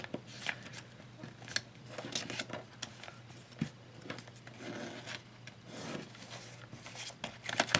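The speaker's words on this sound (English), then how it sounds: "So once you have this, you're just going to fold up the wings." Paper being folded into the wings of a paper jet, a quiet run of soft crinkles, creases and scraping rustles close by, with sharper crackles scattered through and no talk.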